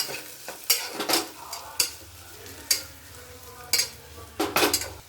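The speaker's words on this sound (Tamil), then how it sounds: "ஒரு பூண்டு அழகாக வெட்டி வச்சுருக்கேன், அதை போடுங்க. போட்டுட்டு அதுவும் கொஞ்சம் வசப்படணும்" Chopped garlic sautéing in a pan for a meat curry, a soft sizzle under repeated sharp scrapes and clinks of a spoon stirring against the metal pan.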